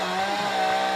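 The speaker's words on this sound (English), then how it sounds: "I'll get a chainsaw." Chainsaw revving steadily and loudly at close range during walnut tree removal, a sustained buzzing engine tone with no pauses.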